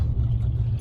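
A 1950 Ford flathead hot rod with straight pipes drives by, its engine giving a loud, close, steady low rumble with no talk over it.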